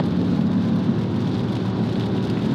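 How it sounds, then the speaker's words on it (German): Light rain falls in a continuous soft hiss that fills the whole stretch, steady and fairly loud, with a low rumble underneath and no speech. "Es regnet ein bisschen."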